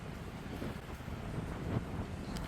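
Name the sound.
wind blowing through pine trees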